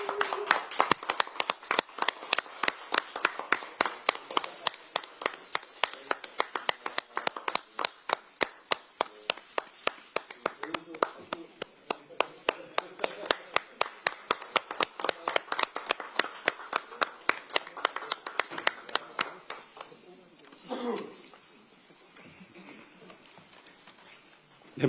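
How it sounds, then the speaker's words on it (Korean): An audience at a political party's recruitment ceremony claps in sharp, rhythmic unison for a long stretch before the beat fades and scattered sounds follow. "큰 박수로 환영해 주시기 바랍니다"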